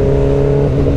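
A loud, close Yamaha R6 motorcycle with a loud exhaust, a sustained engine drone with a steady tone throughout the short moment.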